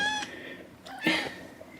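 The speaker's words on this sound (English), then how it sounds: "And since you all loved the kitten last time, here's a different kitten." A young foster kitten gives two short, high meows close by over a quiet background.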